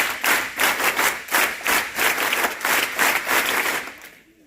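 Children at an NCC cadet camp applaud together, a dense burst of hand claps with a rhythmic, pulsing quality that fades out at the end.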